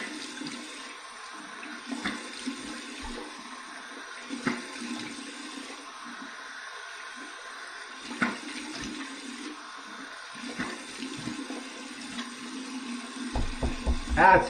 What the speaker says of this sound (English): there it is, cold water rinse.